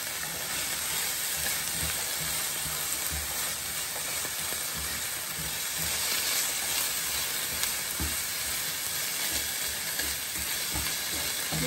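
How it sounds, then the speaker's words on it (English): Garlic and ginger sauteing in oil with green beans, giving a steady, loud, dense sizzle and crackle that runs unbroken throughout, with occasional stirring scrapes and no talking. "Sauteing it all together."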